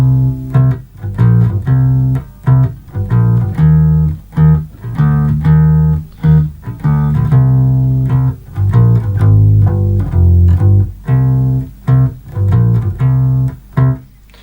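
Bass guitar playing the intro and chorus line of a song, loud and prominent, with punchy rhythmic plucked notes and short gaps throughout.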